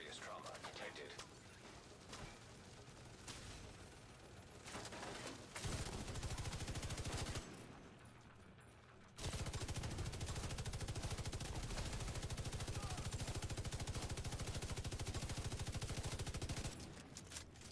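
Automatic gunfire in The Division 2, with long loud sustained bursts and a few shorter volleys broken by brief pauses, close and dense throughout.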